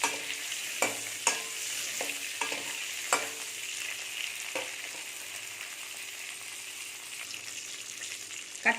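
Brinjal pieces sauté in oil in a pan, giving a continuous soft sizzle with a few sharp spoon scrapes and clinks early on, then gentler frying.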